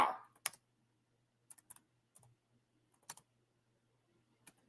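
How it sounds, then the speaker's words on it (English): Keys on a computer keyboard are struck in short, irregular bursts of crisp clicks, a few taps at a time with pauses between, close and quiet against a faint background hum. "I'm typing this in right."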